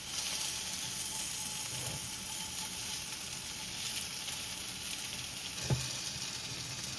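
Bhetki fish fries in a hot frying pan with a steady, dense sizzle and hiss that holds throughout, fairly close and even in level, with one soft knock near the end and no voices.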